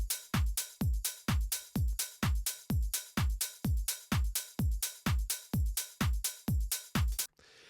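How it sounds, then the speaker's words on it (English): A steady drum loop with punchy kicks, crisp hi-hats, claps and shaker layered together, repeating evenly and loud before stopping abruptly. "all of these drums, they sound like this"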